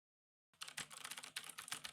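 Rapid typing on a Razer mechanical gaming keyboard begins after a half-second of silence, a dense clatter of key clicks close to the microphone, with no talk.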